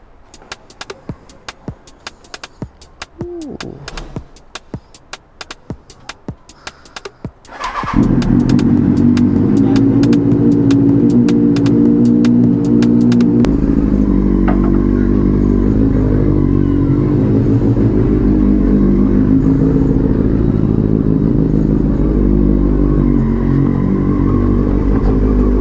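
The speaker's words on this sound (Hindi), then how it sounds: "सर्वात आधी गाडीला देऊया आपण कोल्ड स्टार्ट." A vehicle left unused for many days gets a cold start: several seconds of quiet clicking, then the engine catches abruptly into a loud, close, steady idle that shifts to a deeper, rougher tone partway through.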